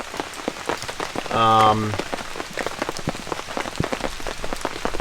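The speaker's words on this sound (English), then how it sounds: "listened to the rain. It got really heavy, as you heard" Heavy rain pours down steadily on a surface, a dense continuous patter with a brief tonal sound in the middle and faint talk in the background.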